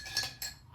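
Ice cubes clink and rattle against a mixing glass as a cocktail with apricot liqueur is stirred, two quick bright clinking bursts close by and fairly faint.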